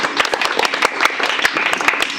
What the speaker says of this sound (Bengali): হ্যাঁ অবশ্যই তার জন্য একটা হাততালি হয়ে যাক